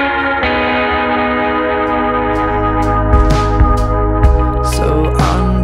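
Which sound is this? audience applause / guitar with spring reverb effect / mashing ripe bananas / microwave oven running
guitar with spring reverb effect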